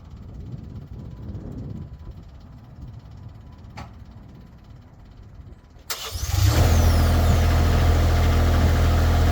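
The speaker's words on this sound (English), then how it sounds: "and then we'll start the engine." The diesel engine of a New Screen USA TC5036 cranks briefly, then catches and settles into a loud, steady idle. Before that there is only a quiet low rumble.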